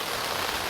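Steady rain drums on the fabric of an REI Wonderland 6-person tent at a campsite in Huntsville State Park during stormy weather, a dense, even patter close around with no gaps.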